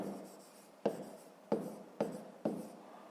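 Handwriting on paper during a fifth-grade maths exercise, close and quiet, with four or five distinct pen taps or strokes spaced roughly half a second apart.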